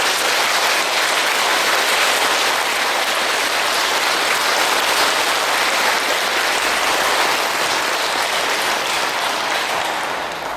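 A congregation at a Korean Catholic church in Oakland, California gives a long, dense round of applause during a charismatic renewal gathering, a steady, loud wash of many hands clapping that holds for about ten seconds before easing slightly.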